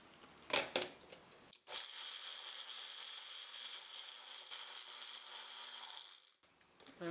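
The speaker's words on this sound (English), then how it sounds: "we're going to blend this up" A kitchen blender whirs steadily for several seconds, mixing ingredients with 3/4 cup of water for a healthy bread dough, preceded by a few sharp clicks and clunks and ending as the motor cuts off.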